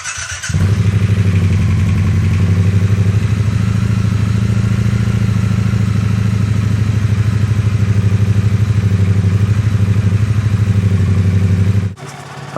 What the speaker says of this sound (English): Let's start things off with a little cold start.